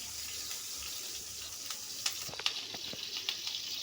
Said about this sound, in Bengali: আমি 3 চামচের মতন পেঁয়াজ বাটা দিলাম।